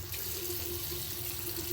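A tap runs in a sink with a steady, close hiss and splash of water. It continues evenly throughout with no voices.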